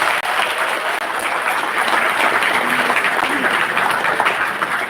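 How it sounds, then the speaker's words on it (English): Audience claps at an HR conclave, a full steady wash of many hands clapping together, loud and continuous with no voices on top. "so please clap for them"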